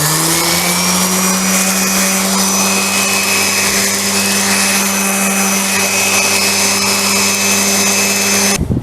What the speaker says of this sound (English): just knock the rough edges off here with the sander.